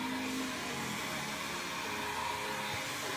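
A handheld hair dryer brush blows steadily at close range, a continuous airy whir with a faint motor hum that stays even throughout, with no talking.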